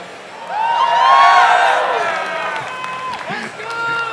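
Fans at a League of Legends all-star esports match at SXSW cheer and whoop for the East Coast team, a loud swell of shouting voices with scattered claps that rises, peaks and eases off.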